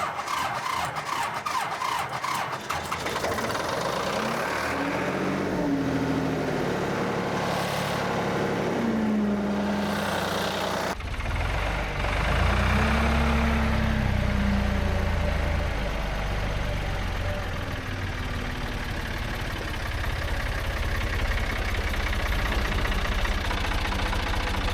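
Backhoe diesel engine cranks, catches and settles into a steady idle at close range, with a brief squeal and knocking rumble, no talk.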